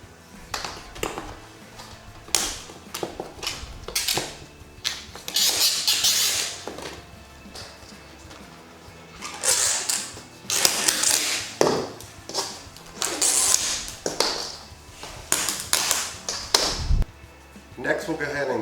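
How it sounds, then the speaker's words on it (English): An old, worn vinyl seal is pulled out of the roof track of a pop-up camper, giving a series of scraping, rubbery pulls and sharp taps and knocks, fairly close, with someone talking throughout. "here I'm just going to pull the rest of the old tired seal out of the top of the roof"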